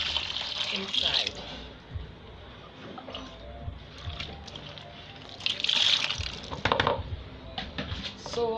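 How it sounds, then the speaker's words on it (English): Dissolved thickener powder water is poured into liquid soap, giving close, irregular splashes and trickles in bursts, with a person talking at times. "This is my thickener powder. It is dissolved in water. I'm going to pour it inside."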